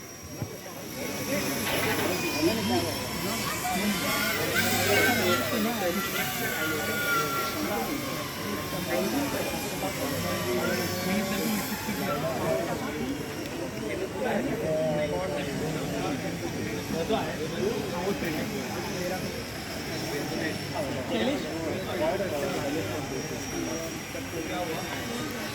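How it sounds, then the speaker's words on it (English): A model helicopter flying at an aeromodelling air show, a steady whirring engine drone that holds for the whole stretch under loud crowd noise and overlapping talk. "now we're going to see what the heli can do"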